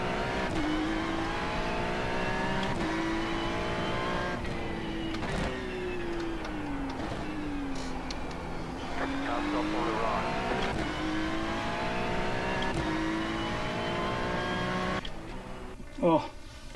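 A race car engine in the iRacing sim whines continuously, its pitch dipping and climbing through corners as the car drifts, loud and steady with a brief clatter near the end.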